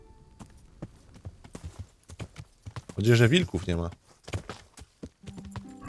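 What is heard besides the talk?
horse hooves while riding, video game Kingdom Come: Deliverance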